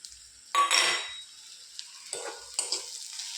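Scraping and stirring pointed gourd and vegetables in a hot pan with a soft sizzle, a loud burst of stirring followed by a few lighter scrapes and clinks.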